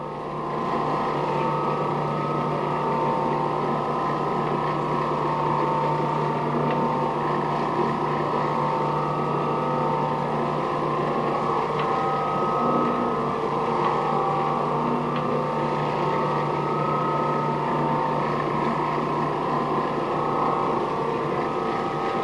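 A floor buffer spray buffing a floor gives a steady, loud motor drone with a constant hum throughout, no pauses, and no voices.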